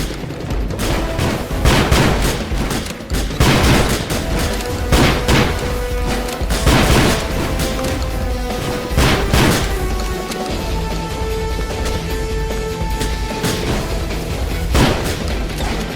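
Gunfire in the GTA video game: loud, dense volleys of rapid shots and booms that pour out almost without pause, sharp cracks stacked over a constant roar, with faint tonal sounds underneath.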